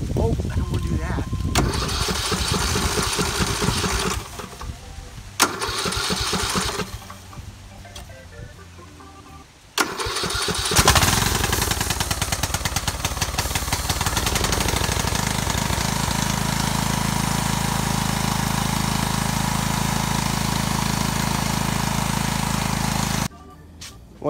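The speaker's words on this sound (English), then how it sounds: "I'm trying to work on this generator in case the power goes out, trying to get it ready." A small generator engine, not a Honda, cranks through several rough start attempts with gaps between, then catches and runs as a steady loud drone for most of the clip before stopping, with voices heard at times.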